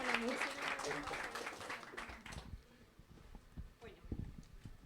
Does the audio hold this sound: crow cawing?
no